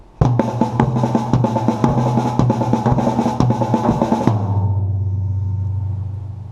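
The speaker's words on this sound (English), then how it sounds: "If you were to do both, left and right, it would sound something like this." Rapid, evenly spaced drum strokes alternating between left and right hands in a five-stroke diddle rudiment on a drum kit with toms. The strokes come loud and close for about four seconds, then stop and leave a low ringing decay.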